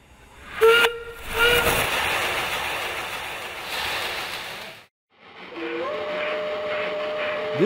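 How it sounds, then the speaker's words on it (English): A steam locomotive gives a short, sharp whistle blast, then releases a long, loud rushing hiss of steam that breaks off into a brief silence before a second, softer whistle sounds over continuing hiss. "This steam locomotive is what most steam locomotives look like."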